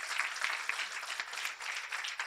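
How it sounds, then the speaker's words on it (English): An audience at a Women of Distinction honors event gives sustained applause, a dense, steady patter of many clapping hands heard from a moderate distance. "Let's give a round of applause to our amazing sheroes."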